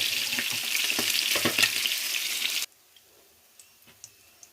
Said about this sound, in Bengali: মাছের মাথাগুলো এগুলো আমি ভেজে নিচ্ছি